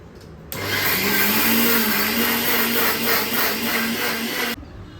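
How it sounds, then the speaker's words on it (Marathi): Mixer grinder whirring as it powders a kilo of sugar, a loud, steady motor roar that starts suddenly, runs about four seconds close up, then cuts off. "तर आता मिक्सरमधून ग्राइंड करून घेते."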